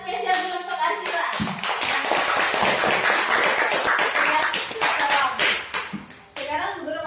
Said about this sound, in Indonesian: kita kasih tepuk tangan spesial dulu untuk Arsila.